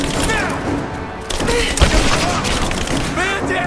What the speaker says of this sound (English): Give me suppressing fire!